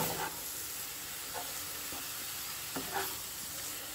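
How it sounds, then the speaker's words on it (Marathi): Grated carrots sautéed in ghee for carrot halwa give a faint continuous sizzle with occasional soft stirring scrapes, close and steady, no speech. "गाजर न्ही आमी आतां तुपान मातशें 3 ते 4 मिनटांनी परतून घेवया."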